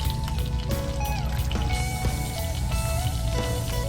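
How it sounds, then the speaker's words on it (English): Rum pours steadily into a sweet mixture in a pan with a continuous liquid splash and trickle, set over a constant low rumble with no talk. "The recipe called for like 2 tablespoons of rum, but I actually want to add just a little bit more"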